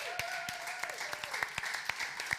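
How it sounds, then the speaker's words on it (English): An audience at a conference stage session applauds a panel of speakers, with scattered, fairly faint claps over a low background tone. "may I ask a huge applause to these three change makers?"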